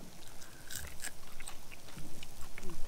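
Close-up crunching and chewing of a grilled kokanee fish tail, several crisp bites with wet mouth sounds, fairly quiet and up close.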